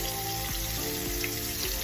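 Steady, crackling sizzle of cubed steak frying in hot grease, two pieces at a time, close and continuous with constant spattering pops.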